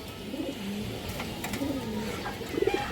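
Pigeons coo in a loft holding a black, curve-necked male pigeon of an old breeding line, with soft low coos recurring against steady background noise and a few brief scuffs.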